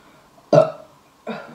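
Two close, wet burps from a person, the first louder and longer, the second shorter about three-quarters of a second later, with quiet room tone around them.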